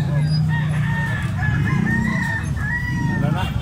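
A rooster crows several times in a drawn-out cock-a-doodle-doo, loud and close, with clucking fowl and a low continuous hum running underneath throughout.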